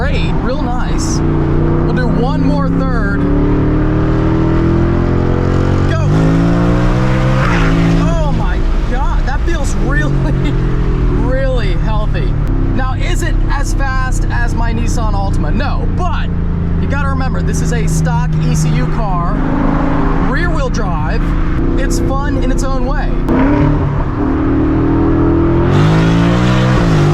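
A 900-horsepower Whipple-supercharged 2024 Ford Mustang GT accelerates hard, its engine roaring loud and close through repeated rising pulls and gear changes, with occasional voices over the noise.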